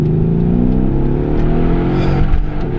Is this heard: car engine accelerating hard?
yes